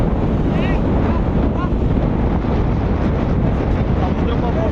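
Strong sea wind blasting steadily across the microphone on a beach outing, a dense continuous roar with faint surf and boat-like rumble beneath it and a little muffled voice activity.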